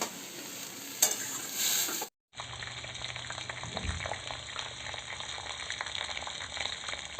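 Food being stirred and fried in a pan during home cooking, a steady close sizzle with scraping stir noises, cut by a brief silent gap before the frying resumes.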